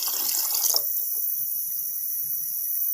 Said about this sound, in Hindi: पानी हमने इतना डालना है कि ये हमारी पूरी इतनी भीगी हुई होनी चाहिए।